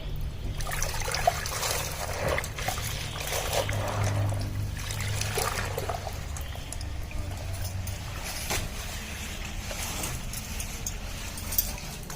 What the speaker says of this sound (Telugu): ఇలా మనం బాగా ముంచామనుకోండి శారీ అంతా లోపలికి వెళ్ళిపోవాలి.